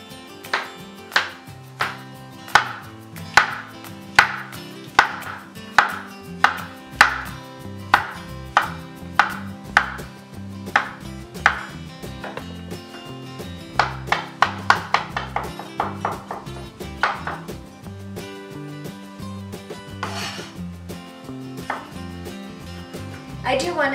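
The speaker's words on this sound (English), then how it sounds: "I'm now chopping the mushrooms and the stems to add to the filling." Mushrooms and their stems chopped finely with a knife on a board for a vegan stuffed-mushroom filling, a steady run of crisp, close knife strikes in quick rhythm, slightly denser near the end.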